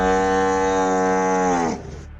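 A cow's loud, drawn-out moo-like snort heard close up and alone at 2 a.m., a sustained harmonic call lasting nearly two seconds before breaking into a rough, breathy tail.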